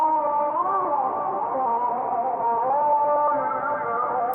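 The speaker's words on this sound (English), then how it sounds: "I took the vocal sample and I gave it a low pass filter" A pitched-down vocal sample from a Pulse Music sample pack, low-pass filtered so it sounds muffled and dark, sustains as a continuous wavering sung tone throughout.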